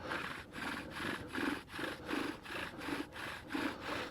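A bow drill spins on wood to make fire by friction, giving a steady back-and-forth rasping saw-like rhythm of about two strokes per second, close and even, with no talking.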